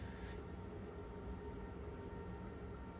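A long passenger train running in Train Simulator 2014, heard from the cab as a continuous low rumble and rolling drone with faint rhythmic rail texture and no talking.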